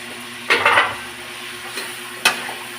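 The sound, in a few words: string beans frying in pan with garlic, onion, tomato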